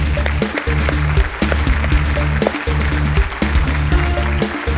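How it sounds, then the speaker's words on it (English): An audience at a women-led development conclave breaks into applause, a continuous spread of clapping under a low tonal background hum. "a huge round of applause once again"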